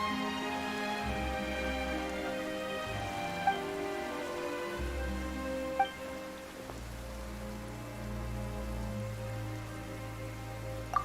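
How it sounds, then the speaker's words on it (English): Sudden rain falls in the video game Genshin Impact, a steady patter spread over sustained low musical tones, with a few sharp soft clicks and no talking. "Why is it raining all of a sudden?"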